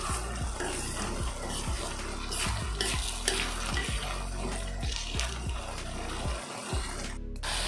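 Tomatoes frying in a pan for tomato sevai, a steady close sizzle with rhythmic stirring scrapes throughout, no talking.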